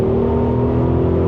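An Audi RS Q8 Performance SUV accelerates on kickdown at high speed. A loud, steady engine drone and road roar with a sustained tone hold at constant volume throughout, with no speech.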